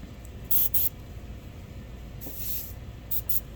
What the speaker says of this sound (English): make sure that's lined up before I go and spray paint all over this